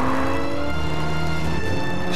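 A Jaguar F-Pace performance SUV accelerates, its engine note climbing in a sharp, close revving sweep that shifts gear partway through, loud and uninterrupted.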